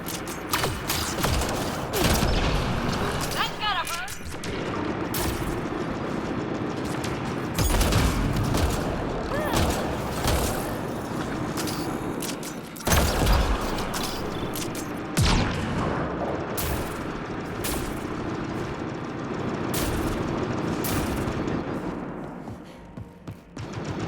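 Repeated booming blasts from the Wither firing bombs in a video game, loud sharp explosions scattered irregularly across a busy, rumbling, mechanical background over roughly twenty-four seconds.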